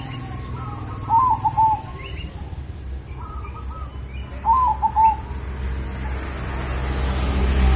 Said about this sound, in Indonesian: tapi perkutut itu tetap manggung